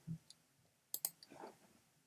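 A computer mouse clicks on a check mark in digital scrapbooking software, a quick pair of faint, crisp clicks with a few soft handling noises around them in a quiet room.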